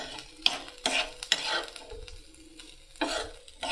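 Capsicum and garlic stir-fried in hot oil, a close sizzle broken by several sharp scraping stirs of a spatula against the pan, with quieter frying between strokes.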